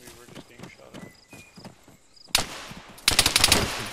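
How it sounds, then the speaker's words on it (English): Gunfire from the video game Arma 3 Apex: two loud, sharp bursts of shots cut in over quieter clopping and thumping sounds, with brief voices heard earlier. "We were just being shot at."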